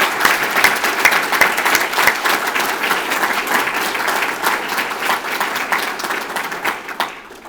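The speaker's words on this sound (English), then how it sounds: "So can we give a round of applause to Dean Mooney and the staff for putting all this on?" Sustained audience applause at a school anniversary reception, many hands clapping loudly and evenly for several seconds before tapering off at the end.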